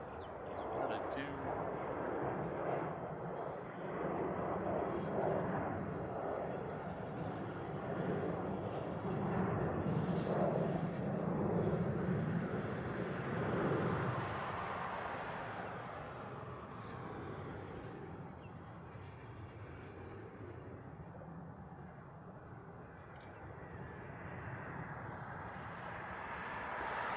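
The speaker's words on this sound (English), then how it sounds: "We have a 717 at the end of the runway there." A Boeing 717 airliner holds at the runway end at Honolulu airport, its engines a steady, distant roar that swells and then eases, with people talking intermittently over it.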